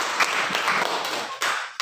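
Classroom applause, a brief round of clapping from a group of students, close and steady for under two seconds.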